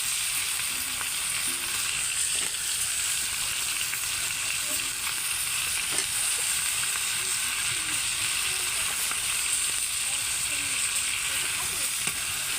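Flat beans sizzle with ground spices in a village-style pan, a loud continuous frying hiss that holds steady throughout, with occasional faint stirring scrapes beneath.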